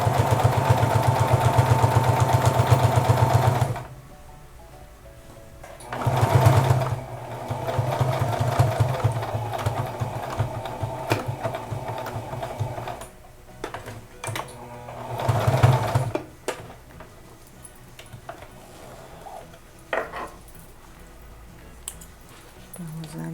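A sewing machine runs a straight seam on a fabric bag refill, in three separate bursts: a long one at the start, then two shorter runs with quiet pauses between them. The whirring is close and clear.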